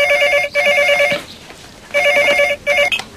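A telephone rings indoors in a French television drama scene, giving two loud bursts of rapid electronic trilling separated by a short pause, close and clear, with no talking.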